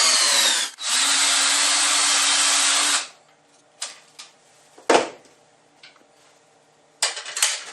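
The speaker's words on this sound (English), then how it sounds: "And now that I've oiled, I should be able to drill." A power drill with an oiled bit bores into a workpiece clamped in a jaw horse, whining loudly for about two seconds before stopping, followed by scattered clunks and handling knocks.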